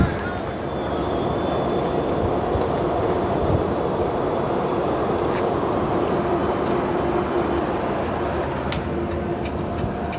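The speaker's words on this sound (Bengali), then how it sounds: "ওই চলে যাচ্ছে দক্ষিণেশ্বর থেকে কবি সুভাষের মেট্রো।" A Kolkata Metro train running from Dakshineswar to Kavi Subhash passes by as a steady, low rumbling drone heard at a distance, holding evenly throughout with no talking.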